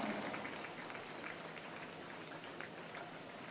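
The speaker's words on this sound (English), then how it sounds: "let us acknowledge this special moment without a resounding round of applause." Distant, faint applause from an audience at a college freshers induction program, a steady hiss-like wash of many hands clapping without a break.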